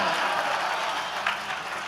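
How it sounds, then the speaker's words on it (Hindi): Applause from an audience for a children's performance at a spiritual gathering in Haridwar, a steady dense wash of clapping that fills the whole stretch at an even level. "एक बार जोरदार तालियां हो जाएं"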